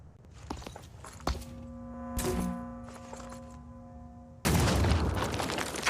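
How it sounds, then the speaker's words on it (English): A grenade lobbed through a ceiling hole in the game Phoenix Point, with a light thud of impact followed by a sudden loud, broad blast that roars on to the end. "We'll lob a grenade right in through that hole in the ceiling."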